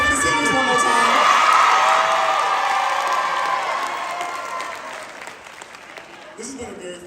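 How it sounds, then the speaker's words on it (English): A crowd at a school senior day event bursts into loud applause with cheering and whoops for the graduating seniors, swelling early and then gradually thinning out, with voices shouting through the clapping. "y'all clap it up for the seniors one more time"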